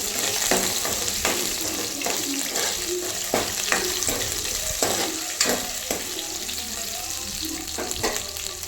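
Ginger and cut coconut pieces fry in a pan for moong dal rasam, a steady close sizzle with repeated stirring and scraping strokes against the pan throughout.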